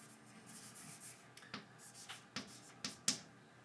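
A pen or marker strokes across a writing surface during a biology lecture, soft scratchy rubs broken by several sharper taps, close and quiet with no talking.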